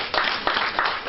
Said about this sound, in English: we should actually give them a round of applause